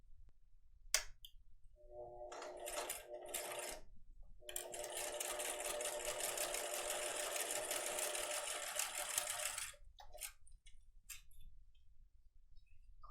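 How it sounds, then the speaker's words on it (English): Sewing machine stitching the short edge of a fabric scrunchie, with short whirring bursts, then a long steady run of rapid needle clatter lasting several seconds before it stops, close and alone. "I'm going to sew down this edge right now, this short edge"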